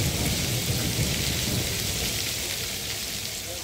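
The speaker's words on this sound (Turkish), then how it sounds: "ilçe merkeziyle köylerde devam eden sağanak yağmur ekili arazileri sular altında bıraktı" A heavy rain downpour falls over a town and its surrounding villages, a dense, steady roar of water that holds at the same loudness throughout, with no voices.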